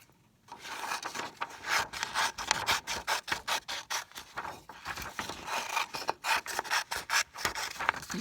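Paper being trimmed for a notebook with steady, rhythmic rasping cuts that follow in quick succession, close to the microphone and quiet, with no one talking.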